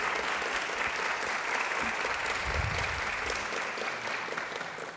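Sustained applause from an audience at an event on gender equality in the judiciary and public prosecution, steady and dense clapping for the full stretch, fairly loud and unbroken.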